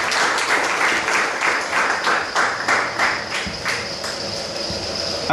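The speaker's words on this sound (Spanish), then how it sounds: "fuerte el aplauso, por favor, de nuevo, reiterado el aplauso para el licenciado Mario Antonio Sandoval" An audience at a Juegos Florales ceremony in La Democracia, Escuintla, gives sustained applause, steady and fairly loud throughout, with a high insect-like hum running beneath it.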